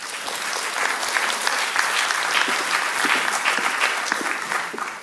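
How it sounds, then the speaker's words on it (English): Audience at a digital marketing seminar panel discussion applauding, dense and sustained clapping from a room full of people that continues steadily for several seconds before easing off. "Let's give them a round of applause."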